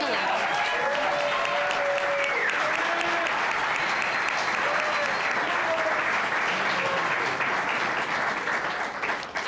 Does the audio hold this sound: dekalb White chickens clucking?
no